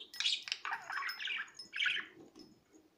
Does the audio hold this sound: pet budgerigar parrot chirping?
yes